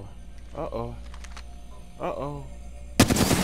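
Gunfire in a video game aimed at a gold cargo bot: a voice speaks briefly, then a sudden loud burst of shots erupts and carries on to the end.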